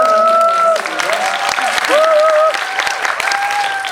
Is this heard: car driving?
no